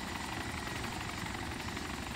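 Helicopter in the video game DayZ Epoch flying and coming down to land, a loud steady rotor roar that fills the whole clip with no talking.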